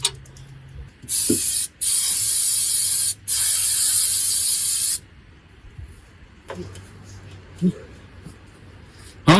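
Several loud close aerosol spray bursts hiss over spilled oil while working on a squarebody truck, followed by quieter clicks and handling noises as someone talks.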